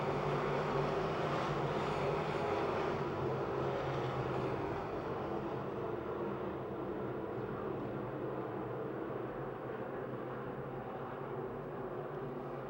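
Race cars roar around the Pennsylvania Motor Speedway oval near Pittsburgh as a dense, continuous engine drone that stays loud and slowly eases over several seconds, with no voices over it.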